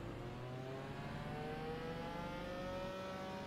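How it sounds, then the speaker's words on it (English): Race car engine in the Forza Motorsport video game, Class D/C championship at Alpine Ring; a steady, droning engine whine with rising pitch as the car accelerates, continuous and moderately loud with no voices. "I didn't realize how loud the engine noise was."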